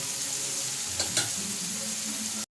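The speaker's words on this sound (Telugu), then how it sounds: "ఈ ఆనియన్స్ అంతా మంచిగా వేగిందాక మంచిగా వేగనేయండి." Onions frying in a pan for a boiled prawn curry, a steady close sizzle with a couple of brief stirring scrapes near the middle, then a sudden cut to silence at the end.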